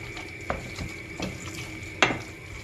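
A spoon scrapes and clanks around a large pot of chicken keşkek in a few uneven strokes, with one sharper knock near the end, close and fairly quiet.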